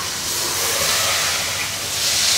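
Hot oil sizzles in a pot while chicken fries, a loud, steady hiss that holds for a couple of seconds with no pauses.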